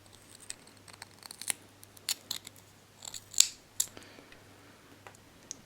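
Scissors snip the coil wire while trimming it flush on an Ithaka dual-coil build, a few short, sharp, faint clicks spaced irregularly against quiet background hum.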